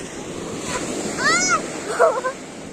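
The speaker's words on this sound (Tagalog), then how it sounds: "Ayun na, nakapunta na kami sa dagat." Ocean waves wash steadily at a beach, a broad rushing surf sound with wind buffeting the microphone, while faint voices and a brief high call rise over the water.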